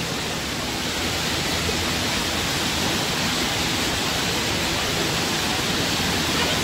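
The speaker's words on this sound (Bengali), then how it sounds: "এই দিকটায় স্রোত বেশি আছে।" Strong river current rushing near Jonha Falls, a dense, steady roar of flowing water with no pauses, loud and close throughout.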